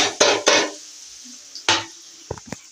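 Bottle gourd, cooked dal and softened tomato get stirred in a pan for kootu, a few loud scraping spatula strokes separated by quiet gaps, with light clicks at the end.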